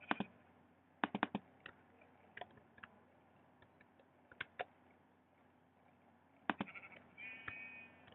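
Sheep bleating in the video game Minecraft, several short faint bleats scattered among clicking keyboard-like taps over a quiet background, with no talk.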